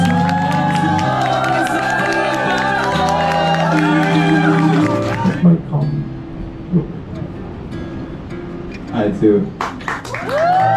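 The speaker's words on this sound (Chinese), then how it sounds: "让我们掌声欢迎新人入场" Wedding guests cheer, whoop and clap as the newlyweds enter, first over loud music, then in scattered bursts of applause and shouts, with voices talking through the crowd noise.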